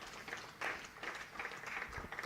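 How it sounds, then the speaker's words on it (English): Applause from a cricket crowd as a Middlesex player walks off the field during a T20 Blast match against Surrey, faint and distant, a steady patter of clapping across the whole stretch. "Eskenazi, well applauded off the field by Middlesex teammates"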